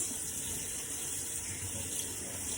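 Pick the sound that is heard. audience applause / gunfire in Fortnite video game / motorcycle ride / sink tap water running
sink tap water running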